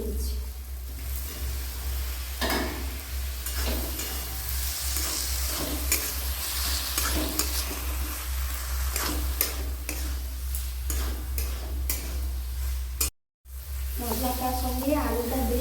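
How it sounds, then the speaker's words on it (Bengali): Boiled potatoes being stir-fried in a spice masala in a pan, a steady sizzle with repeated scraping and stirring strokes and small ticking clinks, continuing close and even throughout with a brief dropout near the end. "মশলাটার সঙ্গে আলুটা দিয়ে খুব সুন্দর করে আমি কষিয়ে নিয়েছি"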